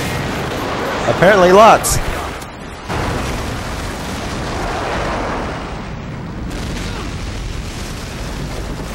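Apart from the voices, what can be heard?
airstrike explosions in video game Modern Warfare 2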